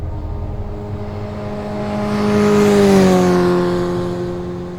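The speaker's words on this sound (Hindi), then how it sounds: "तभी एक मोटरसाइकिल हॉर्न देते हुए बगल से गुजरी।" A motorcycle on a quiet road approaches, roars past close by and recedes, its droning tone bending downward as it goes by; no voices are heard.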